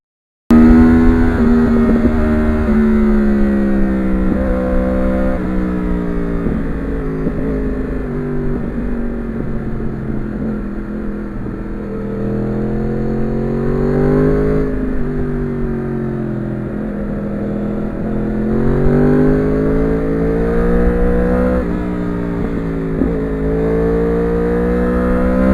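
Kawasaki ZX7R Ninja sport motorcycle on a road, its engine droning steadily and close throughout with rising and falling pitch as the rider shifts and throttles, no voices.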